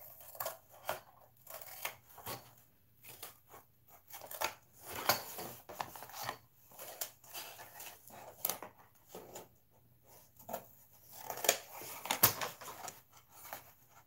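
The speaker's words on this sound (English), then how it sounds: "Let's hurry up and get this cut out so we can get it put together. And I do have some cardboard scissors right here." Cardboard being cut with store-bought cardboard scissors for a glam candle holder craft: a series of close, crisp snipping and crunching bursts in irregular rhythm, with short pauses between cuts and no talking.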